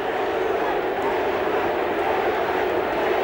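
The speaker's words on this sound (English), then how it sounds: "Listen to this crowd." A rugby league test crowd of New Zealand supporters roars in a stadium during a match against Australia, a loud, continuous wall of massed voices with no breaks, distant and blended into a steady drone.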